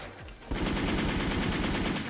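Rapid automatic gunfire in the online shooter Wolfteam, a dense, loud burst of evenly spaced shots that begins abruptly after a brief quieter moment and continues without pause.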